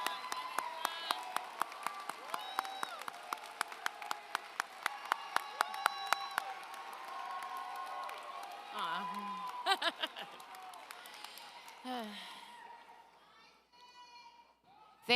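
Graduation audience at the ITHS Class of 2024 ceremony applauding National Honor Society students, a spread of distinct claps in a large hall, moderately faint, with voices and crowd murmur mixed in and fading toward the end.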